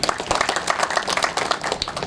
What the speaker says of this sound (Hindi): इसके लिए भी एक बार जोरदार तालियां